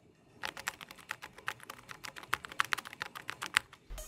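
Close, quiet, rapid keystrokes on a OnePlus Keyboard 81 Pro with Summer Breeze marble mallow keycaps, a soft, even patter of muted clicks with occasional sharper taps, no voices.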